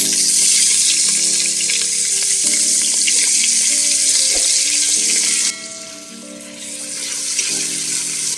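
Two onions frying in hot oil in a pan, a loud, dense close sizzle that drops briefly in strength midway before building again, with faint clinks under it.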